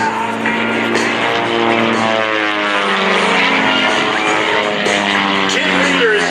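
A Redline Airshows RV-8 propeller aircraft in flight at an airshow, a steady loud engine drone with a rising-and-falling buzzing pitch that holds throughout, with a voice talking over it.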